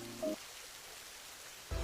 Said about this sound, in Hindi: अचानक ही बारिश शुरू हो गई